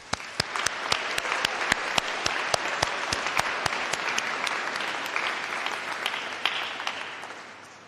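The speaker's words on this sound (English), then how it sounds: "please give a round of applause and massive cheer to say thank you to those who supported you along the way" Graduates at a university winter congregation ceremony give a round of applause, a broad crowd clapping with sharp individual claps punctuating it, sustained and loud across the hall.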